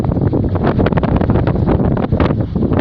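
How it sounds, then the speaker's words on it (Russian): Strong wind in a snowstorm in Kostanay region, Kazakhstan, buffets the microphone in loud, gusty roars, rumbling and uneven throughout, with no voices. "Ничего не видать, такой ветер сильный."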